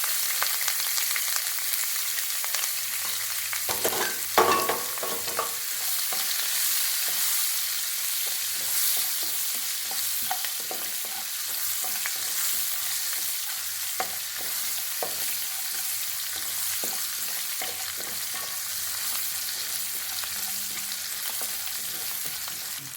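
Chopped onions and curry leaves frying in a pan, a continuous close sizzle with intermittent scraping and stirring clatter throughout, no talking.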